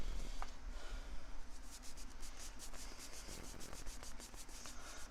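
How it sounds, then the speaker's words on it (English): Arrow shafts being wiped down by hand, giving a soft continuous rubbing and brushing texture with rapid back-and-forth strokes, faint and close, with no talking. "all you got to do is just wipe the shafts down."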